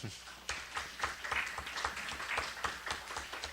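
Scattered clapping from a small audience at the opening of an academic history of science congress at the University of São Paulo, fairly quiet and steady, with individual claps audible rather than a roaring ovation.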